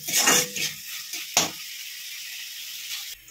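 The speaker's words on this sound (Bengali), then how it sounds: "টমেটোগুলো এখানে দিয়ে দিয়েছিলাম। এবার ভালো করে মানে মশলাগুলোকে মিক্স করে নেব।" Spice masala and chopped tomatoes are stirred in a frying pan, giving a couple of scraping strokes over a soft sizzle in a short, close take without speech.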